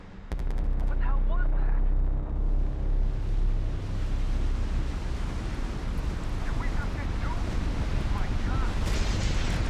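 A massive nuclear reactor explosion in the video game F.E.A.R. 2: Project Origin booms and rolls into a long, thunderous rumble with crackling debris, loud and sustained, with a few high whistling tones early on.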